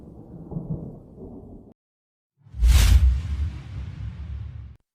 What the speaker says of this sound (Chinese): 就是个小雷电，不必大惊小怪